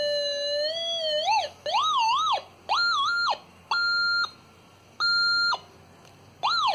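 A Go Find metal detector signalling over the centre of its coil, a series of loud electronic tones that warble and wobble at first, then settle into steady flat beeps with short gaps, close by, with no talking.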